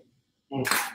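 Single-lens reflex camera shutter firing once at 1/60 second and f8, a short close mechanical burst after near silence.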